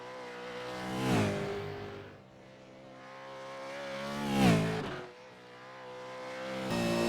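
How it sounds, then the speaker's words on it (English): A race car climbs the hill at Bathurst in a VR racing game, its engine rising to a loud revving pass, fading, then swelling into a second close pass with a tire squeal at the end. "you watch the car come up the hill and drift sideways and just miss that wall"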